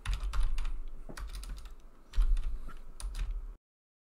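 Clicky keystrokes on a computer keyboard while entering a node search in Unreal Engine 5, arriving in two quick bursts of close, crisp taps with a brief pause between them.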